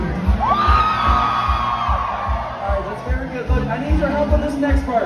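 A crowd on Broadway street in Nashville whoops and cheers with scattered yells over thumping live band music, close and fairly loud, with a voice talking among the noise.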